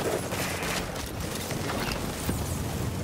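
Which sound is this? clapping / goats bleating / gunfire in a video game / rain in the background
gunfire in a video game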